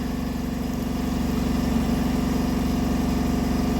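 Induction motor running under field-oriented control as its set speed rises from 1200 to 1400 rpm: a steady, loud electrical hum and mechanical whine with strong low harmonics, constant throughout with no talk.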